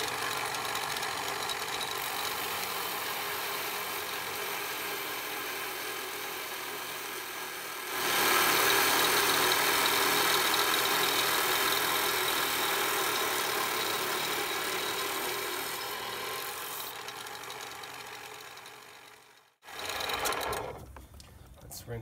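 A lapidary rock saw slices through a Septarian nodule, a steady whining drone that swells louder midway through the cut, then cuts off abruptly near the end before a brief burst of handling noise.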